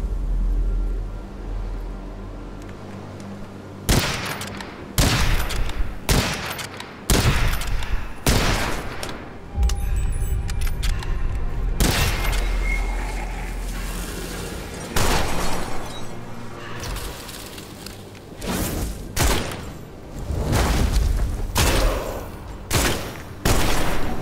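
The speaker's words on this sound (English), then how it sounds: "Alright, let's try this new gun." Rapid bursts of gunfire from a new gun in the video game Witchfire, loud and close, fired in repeated volleys separated by short pauses across the whole stretch.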